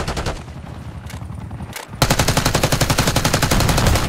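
Automatic gunfire in Call of Duty: Black Ops 6 multiplayer on the Babylon map, a burst of rapid shots, a brief lull, then a loud sustained rattle of fast, evenly spaced machine-gun fire.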